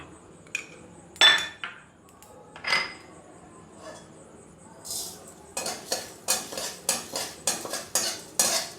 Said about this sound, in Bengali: এবার কড়াইতে অল্প পরিমাণে তেল দেব, যে কলাইয়ের ডালটা নিয়েছিলাম সেটাকে ভাজার জন্য